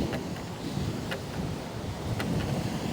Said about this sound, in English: it's going to be cold and it's going to be windy down here